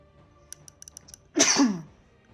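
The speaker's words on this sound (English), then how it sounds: "Oof, sneeze." A single loud, close human sneeze, a sharp burst that trails off over about half a second, after a few faint clicks in an otherwise quiet room.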